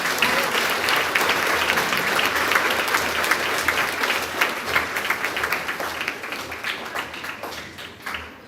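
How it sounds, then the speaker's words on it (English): Dense applause from a school audience at a grades 4–6 awards assembly, loud and continuous before thinning into a few scattered claps toward the end. "give them one more round of applause, please"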